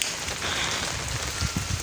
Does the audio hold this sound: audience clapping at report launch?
no